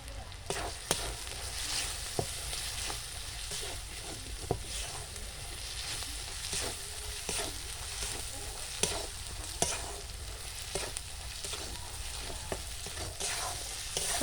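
Spice masala with salt, turmeric and chili powder for a snakehead fish curry sizzles steadily in a pan, with repeated scraping strokes of a spoon as it is stirred, close and continuous with no voices.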